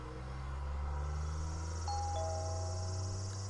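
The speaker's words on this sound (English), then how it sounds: "I ring the doorbell of the Tono residence." Doorbell of a house in the visual novel game Air gives a soft two-tone ding-dong chime over a steady ambient music bed.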